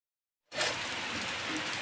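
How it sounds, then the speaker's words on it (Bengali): Steady, dense hiss of heavy rain that starts abruptly after a brief silence and keeps pouring evenly without letup. "বাইরে কি জোরে বৃষ্টি হচ্ছে, খুব জোরে বৃষ্টি হচ্ছে। কি আওয়াজ!"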